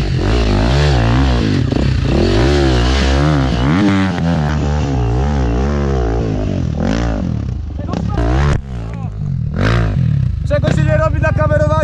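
A 350 enduro motorcycle rides loud and near through mud, its engine revving and droning continuously with rising and falling pitch as the rider accelerates, while voices talk over it.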